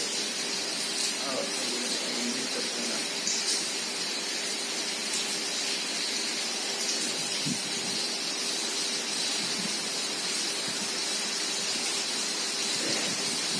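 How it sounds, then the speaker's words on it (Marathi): Steady, dense hiss of heavy rain pouring down continuously, close and loud, with no pauses and no voices. "बहुत ही भयानक बारिश सुरू आहे ॲक्च्युली."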